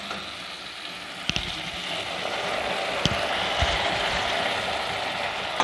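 White mustard paste sizzles and fries steadily in a pan of pabho fish curry, a close, continuous crackle with a few sharp clicks of utensils against the pan.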